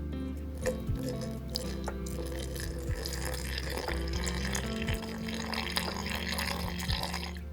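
Room-temperature water poured into a bowl of sourdough ingredients in a kitchen, a soft continuous trickle and gentle splashing with a few faint clicks, no voice over it.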